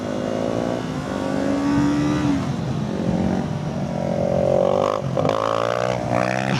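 Yamaha R3 motorcycle engine revving hard during a wheelie attempt, a steady, fairly loud rising and falling engine whine that holds throughout with pitch swells, near the listener.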